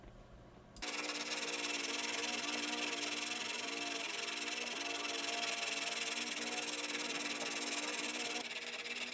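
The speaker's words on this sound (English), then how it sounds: "once I'm done draw filing this with the needle file" Needle file draw filing a knife blade held in clamps, a continuous bright scraping rasp of metal on metal, steady and close, starting abruptly after a quiet moment and easing off at the end.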